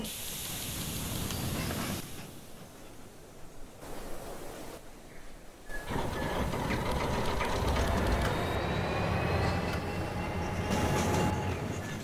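Two model trains run around a layout in the Rolling Line video game, producing a steady rolling rumble that drops away briefly and returns louder, with faint thin squeals rising over it later on.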